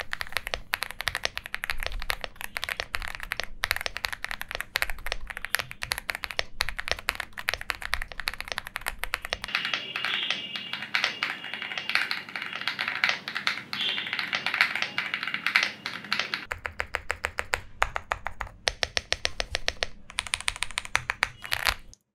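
Typing on a Leobog Hi75 mechanical keyboard fitted with KTT Wine Red switches and GMK Frost clone keycaps, a steady rapid stream of close, crisp keystroke clacks with brief pauses between bursts and no talking.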